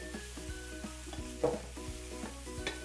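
Chopped onion frying in a pan, with a steady close sizzle broken by repeated stirring scrapes and no voices.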